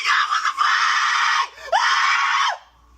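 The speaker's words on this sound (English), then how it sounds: "The scream came." A woman lets out two long, loud screams close by, the first held for about a second and a half, then a short break before the second, which ends abruptly.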